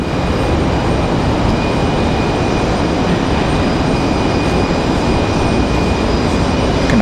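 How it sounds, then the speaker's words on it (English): An airplane takes off at Raleigh-Durham airport, producing a loud, steady roar of engine noise that holds constant without a break. "So pretty steep takeoff there for that one."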